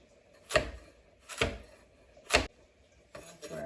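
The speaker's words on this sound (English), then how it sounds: "I'm going to chop up my remaining parsley" Parsley is chopped with a knife on a cutting board, four distinct, fairly close thuds spaced about a second apart over a quiet background.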